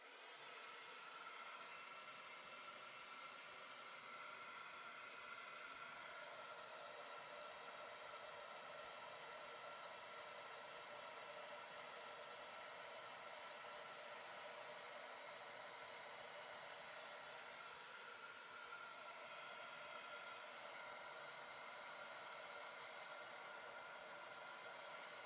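A heat tool blowing steadily while melting embossing powder on a handmade card, a faint continuous fan-like whoosh and whine running unbroken throughout with no talk.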